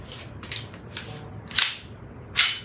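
Umarex CO2 BB pistol firing 4.5mm steel BBs, with about four sharp snapping shots spaced unevenly over a few seconds, the last two loudest, against a quiet background.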